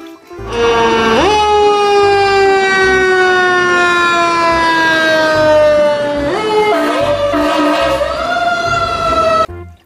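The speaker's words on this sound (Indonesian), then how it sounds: "pemadam kebakaran." A loud electronic siren wails steadily close by, its pitch gliding down and then jumping back up, like a toy fire engine siren.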